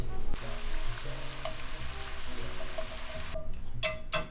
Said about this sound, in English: we're going to saute them on a really low heat until these ginger chips start to curl and get golden brown